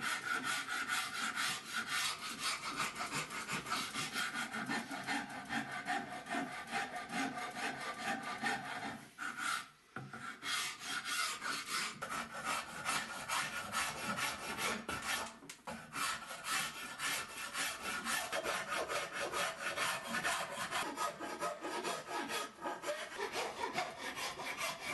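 A saw cuts a slot into the wooden stock of a snaphaunce musketoon in steady back-and-forth rasping strokes, close and continuous, with a brief pause partway through.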